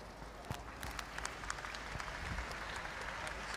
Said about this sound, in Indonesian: sekali lagi tepuk tangan buat kita semua